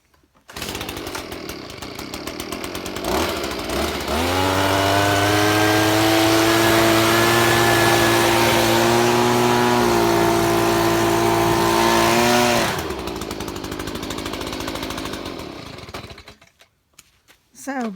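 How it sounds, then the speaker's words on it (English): Compressed air blasts sawdust off the bed rails of a WoodMizer sawmill, a loud steady rushing hiss with an engine drone running underneath for about eight seconds, bracketed by mechanical clatter before and after. "I'm gonna blow that sawdust off of there."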